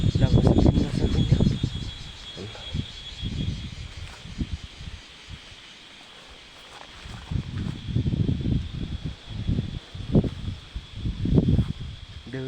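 Wind gusting at Deurali in the Nepali hills, with rumbling buffets that rise and fall in waves and a short calmer lull in the middle, alongside a faint rustling of foliage.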